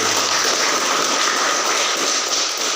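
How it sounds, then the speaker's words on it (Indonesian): Clapping from a classroom or teachers' gathering, a steady dense patter of many hands sustained at a fairly loud level for the whole stretch with no voices over it. "Mungkin bisa berikan tepuk tangan untuk Pak Macu."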